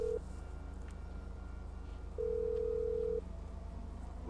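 A toy phone rings in GTA V, giving a steady electronic tone that sounds once very briefly and then holds for about a second, clear over a low constant hum.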